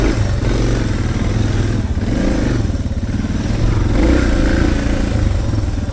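A Suzuki DR650 dirt bike ridden through deep sand on a trail, its single-cylinder engine droning loud and close with steady throttle and rattling clatter throughout.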